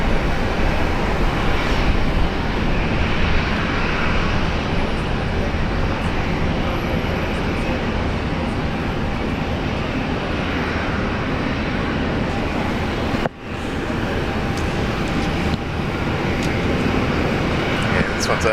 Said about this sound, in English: This one's a 3-year-old A350. Let's have a look at this landing